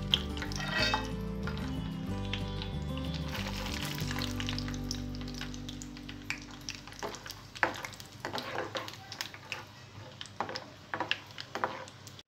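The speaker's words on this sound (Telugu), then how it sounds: "కాకరకాయ ముక్కలు ఫ్రై చేసిన ఇదే ఆయిల్లో పల్లీలను కూడా డీప్ ఫ్రై చేసుకోవాలి." Peanuts deep frying in the same oil used for bitter gourd pieces, a steady sizzle and bubbling with a stirring scrape early on, then crackling pops that grow sharper and more scattered.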